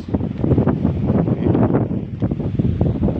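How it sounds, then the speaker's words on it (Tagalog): Strong wind at a seaside pier on a Culasi, Antique island buffets the microphone in a steady roar with gusting surges throughout, no voices. "lumakas yung hangin"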